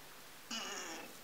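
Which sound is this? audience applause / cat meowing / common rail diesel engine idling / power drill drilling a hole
cat meowing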